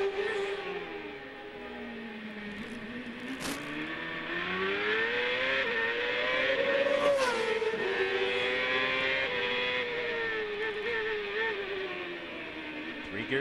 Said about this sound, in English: it cuts the engine for a split second to allow the dog rings to disengage and for it to fall into the next gear